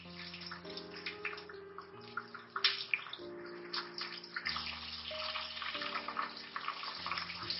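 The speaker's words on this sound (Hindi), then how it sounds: "मैं इसमें शामिल कर रही हूँ प्याज।" Chopped onions hit a hot pan already fragrant with garam masala and fry with a steady, bright sizzle that runs throughout, partly under background music with tonal chords.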